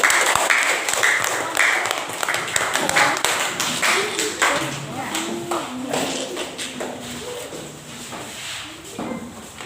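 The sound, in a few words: classroom applause, clapping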